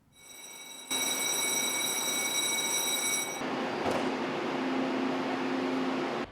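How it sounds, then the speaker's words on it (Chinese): A train gives off a high electric whine, then settles into a steady rolling rumble as it pulls away, with no talking. "列车关门，外带人员安全较真，火车就要起行。"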